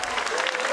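A crowd at a StarCraft GSL Super Tournament final applauds in a brief, loud wash of clapping, with a voice faintly underneath.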